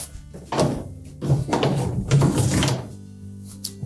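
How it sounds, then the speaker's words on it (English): A Whirlpool dryer's lint filter slides back into its slot during a repair: a few close scraping and knocking thunks over about two and a half seconds, then quiet. "we may as well put the lint filter back in."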